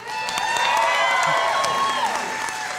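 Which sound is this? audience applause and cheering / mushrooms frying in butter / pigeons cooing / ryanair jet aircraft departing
audience applause and cheering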